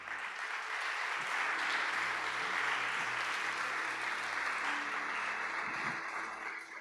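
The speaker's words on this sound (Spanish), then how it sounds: "Puedes darle palmas fuertes a Él." A church congregation claps loudly and steadily for several seconds, a dense wash of applause heard from some distance, with a low hum and a few faint knocks beneath it.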